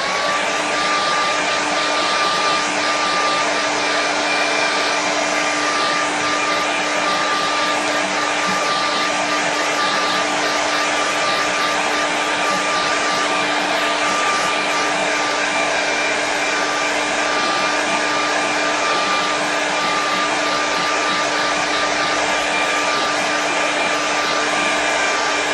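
A hair dryer blows on a watercolor painting in a continuous, loud, steady whine and rush of air with a fixed motor hum, running unbroken for about 25 seconds with no speech.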